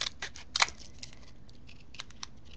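Scissors snip through paper in a series of short, crisp cuts with brief pauses between them, close and fairly quiet, with no talking over them.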